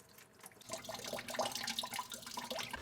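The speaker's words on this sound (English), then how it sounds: "Now while the cooling system is draining" Coolant pours from the loosened drain plug at the bottom of a Bronco radiator, a faint splashing, trickling stream that starts quietly and then runs steadily.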